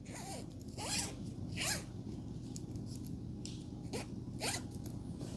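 Zipper on a baby swaddle blanket being pulled in several short zips, close and quiet, with a low background hum and no talk.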